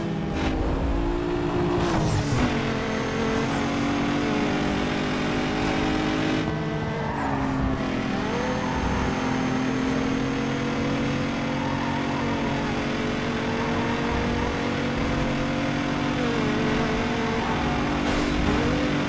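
Race cars in Need for Speed Underground 2 roar and accelerate hard, the engines loud and close, rising and shifting in pitch with no one speaking.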